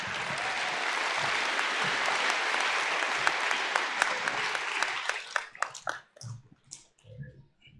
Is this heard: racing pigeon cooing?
no